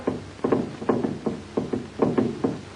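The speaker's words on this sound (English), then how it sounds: "Is that knocking?" Muffled knocking from someone trapped under wreckage after an explosion, heard in an old naval adventure serial: repeated dull thuds in pairs and small groups, steady and fairly loud, with no talk over them.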